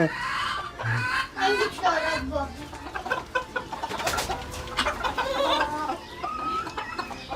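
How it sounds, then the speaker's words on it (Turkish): Several dwarf Cochin bantam chickens cluck and murmur close by, a busy overlapping chatter of short calls with some background noise. "Bunlar minik tavuk ırkları ve çok sakin uysal bir ırk."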